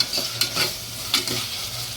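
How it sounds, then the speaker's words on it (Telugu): Tomatoes fry over a medium flame while a spoon stirs them around the pan, giving a few scraping strokes over a constant gentle sizzle, close up and free of speech. "ఇప్పుడు మీడియం ఫ్లేమ్లో టమోటాని మగ్గనిద్దామండి."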